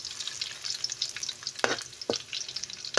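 Garlic sizzles and fries in a pan while being browned for a home-cooked vegetable lunch, a soft steady crackle punctuated by a few sharp stirring scrapes, close and fairly quiet with no talking.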